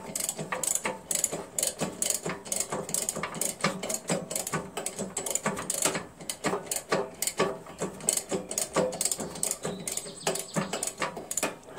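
The 6 hp Tecumseh engine on a Jacobsen Imperial 26 dual-stage snow blower is turned over by hand, giving a close, rapid run of ratcheting mechanical clicks and compression pulses in an uneven, repeating rhythm.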